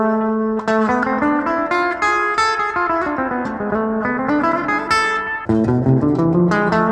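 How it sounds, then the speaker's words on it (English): Guitar notes climbing through an exotic-sounding harmonic minor scale, played clearly and steadily, then restarting low and rising again, with no talking. "Okay, so the last scale is the harmonic minor scale."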